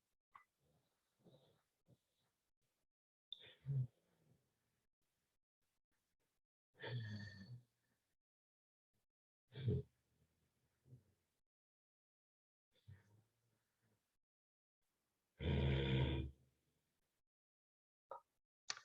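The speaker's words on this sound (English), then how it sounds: "So let's try the ujjayi breath once more." Ujjayi breaths in yoga practice, drawn as slow audible throat-constricted inhales and exhales, several separate breaths spaced by quiet pauses, close and fairly soft, with no talking.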